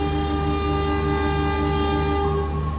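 A loud, steady train horn blares continuously with a rich, sustained tone over the rumble of a locomotive as a passenger train departs for Malang.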